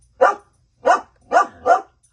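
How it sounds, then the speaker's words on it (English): Dogs bark in a household, four sharp, fairly loud barks in an uneven rhythm, one single then a quick group of three, heard alone with no talking. "Those are the dogs."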